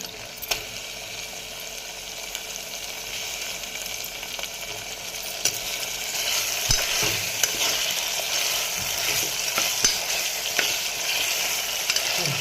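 Tomatoes fry in a hot pan while being stirred, giving a steady broadband sizzle that swells slightly louder partway through, with occasional scrapes and clicks of the spoon against the pan, close up and without talk.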